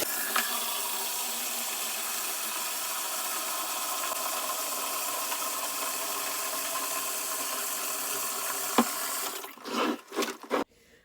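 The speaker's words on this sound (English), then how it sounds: "So right now we're going to fill this up with water." Water fills a portable washing machine tub in a steady, even rush for about nine seconds, then cuts off into a few short bumps and clunks.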